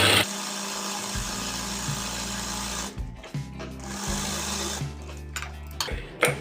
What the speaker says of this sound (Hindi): ये मेरी कॉलर की सिलाई लग गई है